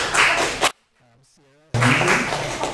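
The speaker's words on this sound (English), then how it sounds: "please give a round of applause and appreciation to our" Audience clapping for the MCs at a Dharma family service, a broad, dense burst of applause that breaks off, leaves a short quiet stretch with a brief voice, then swells back up to full volume.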